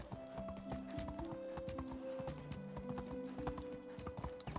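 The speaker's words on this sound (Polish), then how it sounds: "bo koń kondycję traci. To trzeba mu zwolnić trochę tempa," Steady horse hoofbeats clip-clop at a brisk, even trot in the medieval video game Medieval Dynasty, with a soft in-game music drone underneath and no talk over the footsteps.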